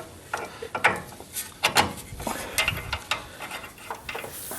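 A ratchet clicks in short irregular bursts while tightening a steering tie rod end on a 1990 Ford Ranger 2X4 during a ball joint replacement, with close metallic clatter and brief handling noises between strokes.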